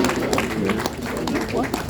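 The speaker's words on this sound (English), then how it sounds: "Let's give a round of applause to the woman." A crowd claps for a woman being honoured at a Nigerian public gathering, with dense, steady applause filling the space and a voice carrying over it.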